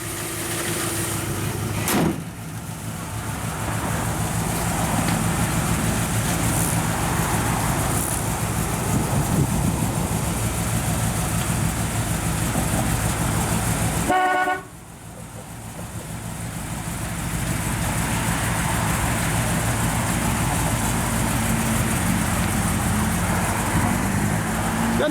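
A 1957 Chevrolet Bel Air two-door post with a dual exhaust and 350 turbo transmission runs at a steady, fairly quiet idle, close by, with a brief sharp break and a short dip midway before the even engine drone resumes.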